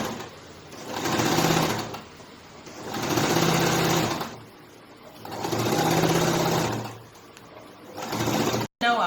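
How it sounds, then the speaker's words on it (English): A sewing machine stitches along the curved edge of a tulle ruffle skirt in three long bursts, each running a few seconds with quieter pauses between, close and clear with no talk. "So I'll just keep sewing it all"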